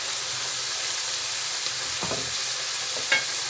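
Chopped green peppers sizzle loudly in a hot pan with a steady hiss, while occasional scraping knocks of a utensil stir through it.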